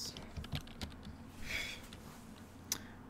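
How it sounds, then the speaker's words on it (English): Typing on a computer keyboard while entering a terminal command to check for an SSH key, quiet scattered keystrokes and clicks in a calm room with no talking. "Type this into the terminal"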